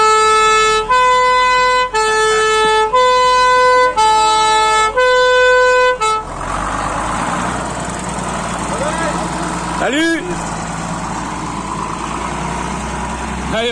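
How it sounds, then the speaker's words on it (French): A fire truck gives a loud blast of its horn, several evenly spaced tonal hoots, followed by an idling engine rumble with a short siren wail and people talking nearby. "Un petit coup de sirène."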